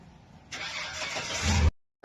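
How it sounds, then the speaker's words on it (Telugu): An old GMC vehicle with a manual gearbox cranks and fires up nearby, a loud broad roar that swells for about a second before cutting off abruptly, with a brief burst returning at the end. "బండి ఇది గేర్ బండి గేర్ బండి జిఎంసి అంటే ఇది చాలా పాత మోడల్ బండి ఇది"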